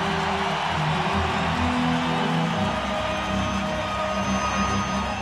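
Hockey crowd in a Chicago arena cheering and roaring, a dense steady wall of noise from a large audience with whoops rising out of it, continuous and loud throughout.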